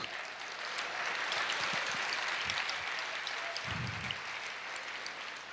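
Church congregation applauding during a Portuguese-language sermon, a steady dense wash of clapping throughout with a few low thumps underneath.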